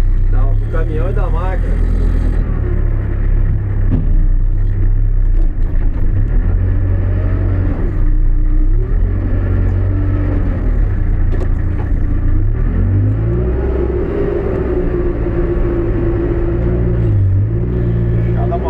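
A New Holland B95B backhoe loader's diesel engine works steadily while opening a plateau, a loud, close, deep rumble with shifting load and revving, and voices talking over it.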